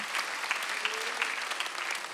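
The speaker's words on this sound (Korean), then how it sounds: "박수하세요" A church congregation claps during a Sunday worship service, a steady, fairly faint patter of many hands heard throughout with no speech over it.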